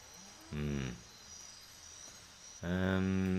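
A cow in the Wasteland 2 video game lets out two loud, close moos, a short one followed by a longer one after a brief pause of quiet background.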